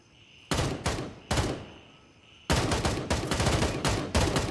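Automatic rifle fire in the Gray Zone Warfare video game: short loud bursts of rapid shots, first two brief volleys, then a longer sustained stream of fire, close and with no talk.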